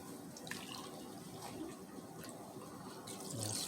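Whole milk poured into a pot of macaroni and cheese, a soft continuous liquid stream with faint splashing, quiet and steady, swelling slightly near the end.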